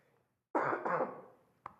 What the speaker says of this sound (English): And the cough hasn't quite gone away.